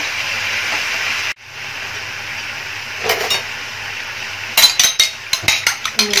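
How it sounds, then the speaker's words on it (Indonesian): Spring onions hit a hot pan for Padang-style crab and green mussel sauce, producing a steady hiss that briefly cuts out, then resumes before a run of sharp utensil clinks and scrapes near the end. "Terakhir kita masukkan daun bawang"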